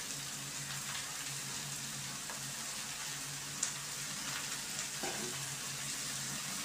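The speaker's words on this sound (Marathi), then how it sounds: "पत्तागोबी मी टाकून घेत आहे." Shredded cabbage sizzles in a hot pan for a vegetable bhaji, a steady, fairly soft frying hiss with a few clinks of a spoon or lid, no talking.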